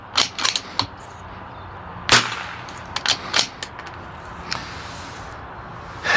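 Suppressed rifle shots fired through a HUXWRX Flow 22TI suppressor, several sharp cracks spaced irregularly, with one louder report near the middle and quieter shots before and after.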